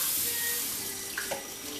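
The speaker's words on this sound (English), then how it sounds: "Go ahead and wash these dishes out." Tap water runs steadily into a kitchen sink while dishes are washed, a continuous close hiss with a couple of brief clinks partway through and no talking.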